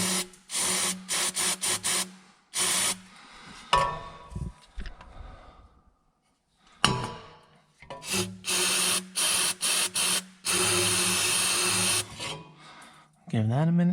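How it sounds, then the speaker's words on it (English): Repeated bursts of brake cleaner aerosol spraying into a transmission part, short hissing blasts and longer sustained sprays, broken by pauses with some handling noise between them. "Spray a little brake clean up in there."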